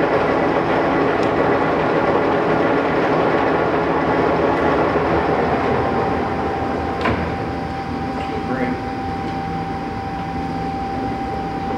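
Monarch 21-inch by 54-inch heavy-duty toolroom lathe with flame-hardened induction bedways running at 319 RPM, a steady loud mechanical drone with a high whine, a few sharp clicks and faint speech in the background.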